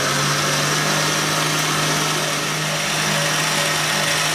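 An electric mixer whisks egg whites with cream of tartar at a medium speed setting, giving off a steady, unbroken motor whir that holds at the same level throughout, with no talking.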